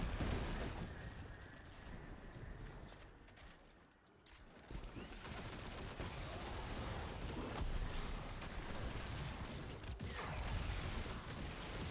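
The Witherhoard grenade launcher fires in Destiny 2 amid dense, continuous combat noise, with booming blasts and mechanical clatter throughout and a brief dip in the middle.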